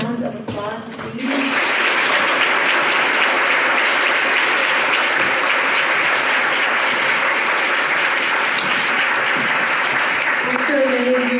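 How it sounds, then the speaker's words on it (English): Sustained audience applause for poet Professor Martín Espada at a Commonwealth Honors College plenary, swelling in after a brief voice and holding steady and dense to the end, where a voice returns. "Can we give Professor Espada one more round of applause"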